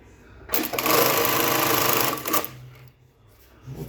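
A Jack JK-T1900 BSK automatic bartack sewing machine stitches a lengthwise bartack with thread trimming on tape, giving one loud, dense burst of rapid needle hammering for about two seconds before it stops.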